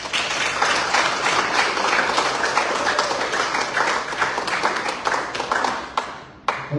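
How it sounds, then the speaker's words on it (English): Applause fills the room at a football association congress in the Northern Mariana Islands, dense and sustained clapping from a large audience that thins into a few scattered claps near the end. "Don't clap too fast."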